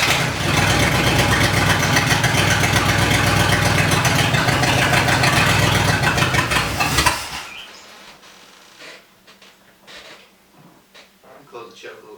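A 1969 Dodge Charger engine, abandoned for decades and fed fuel from a bottle, runs with a loud, rough, pulsing drone for about seven seconds, then cuts out, leaving quieter clanks and background noise.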